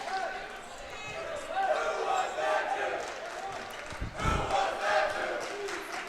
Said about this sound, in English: It's a large crowd compared to the past couple games.